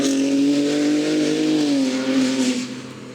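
A BMW M2 passes close by at a classic car event in Munich, its engine a loud steady growl that holds for a few seconds, drops slightly in pitch, then fades as it moves away.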